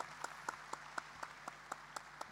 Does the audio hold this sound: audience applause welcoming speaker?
yes